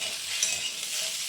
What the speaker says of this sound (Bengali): এখানে বসিয়েছি আলু কেটে, এই যে ভাজা বসিয়েছি, আলু ভাজা আর পরোটা দেবো আজকে